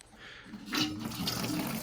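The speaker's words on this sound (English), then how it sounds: "there's going to be some water that comes out" Water gushes and splashes out of a toilet tank as the fill valve is unscrewed and pulled up, a close, steady rushing pour that builds partway through and keeps running, with no talk.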